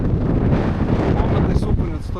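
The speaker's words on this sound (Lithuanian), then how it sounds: "O čia viršutį toks vėjas" Strong wind on an exposed hilltop buffets the microphone with a continuous, loud rushing roar that surges slightly in gusts throughout.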